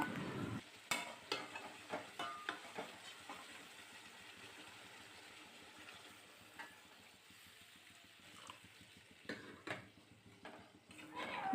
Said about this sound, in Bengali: ভালো করে নেড়ে মিশিয়ে দিচ্ছি।